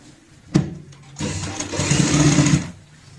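A sewing machine stitches a seam on a fabric purse, a sharp clack followed by a steady, close burst of motor whir that runs for over a second before stopping.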